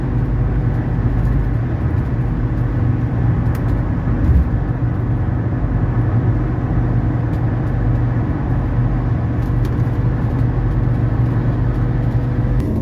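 Cabin drone of a 1984 Mercedes 300SD diesel car cruising on the road, a loud steady low engine and road rumble with no talking.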